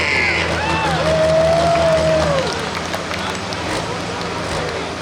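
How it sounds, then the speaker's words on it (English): Spectators applaud and cheer in the open air at a 10,000 lb truck pulling event, a steady crowd murmur with an engine droning underneath and an announcer speaking over it. "Let's give a nice round of applause, Patrick Gentry."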